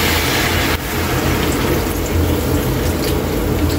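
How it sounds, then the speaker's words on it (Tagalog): Water poured into a cooking pan of oyster-sauce chicken gravy for Filipino lechon manok, a steady rushing, splashing pour lasting several seconds, close and fairly loud. "Maglagay tayo dito ng tubig Kaylee, kunti lang."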